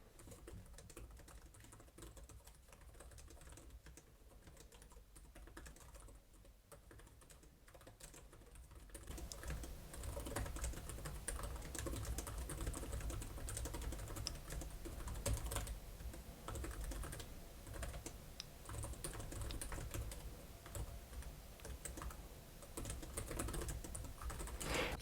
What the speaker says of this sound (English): Let's give you a little typing example here.